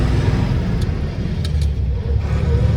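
A heavy truck of about seven tonnes accelerates while driving and gives a loud, steady engine rumble with road noise, close and continuous, without speech.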